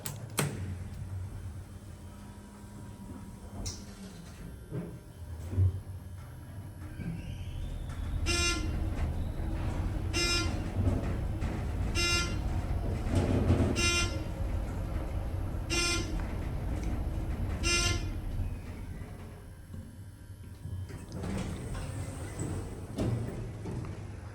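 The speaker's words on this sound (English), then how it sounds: "There's a Wheelock AS fire alarm horn strobe. But anyways, there it goes." A Wheelock AS fire alarm horn strobe in a campus parking garage elevator area sounds in a series of about six evenly spaced, loud harsh horn blasts over a steady low rumble.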